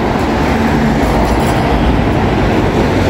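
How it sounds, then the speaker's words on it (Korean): A Busan subway train rumbles loudly along the tracks from Gupo Station, a dense steady roar of wheels and car noise from inside the carriage. "지하철을 타고"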